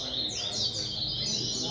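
A caged songbird sings at a bird song tournament in Bahia, a continuous run of bright, rapid chirps and trills that stays close and clear for the whole stretch.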